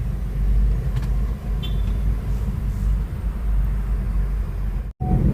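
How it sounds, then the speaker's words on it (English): Stop-and-go traffic jam on a Nairobi road, heard from inside a vehicle: a steady low engine and road rumble with passing cars, ending in a brief sharp dropout. "we are stuck at the traffic jam."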